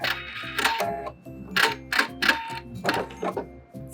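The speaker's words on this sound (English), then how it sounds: "I'm gonna sew a 1/2 inch seam from end to end" A domestic sewing machine runs a half-inch seam along rib knit fabric, a close, rhythmic mechanical clatter of needle strokes in quick bursts with brief pauses between runs.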